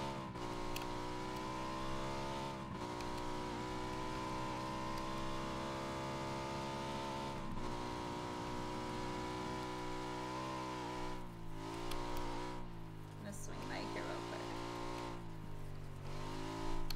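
Motorbike engine in a video game, a steady droning hum with stacked harmonic tones that holds for the whole stretch, shifting pitch slightly near the end as if revving, with no talking over it.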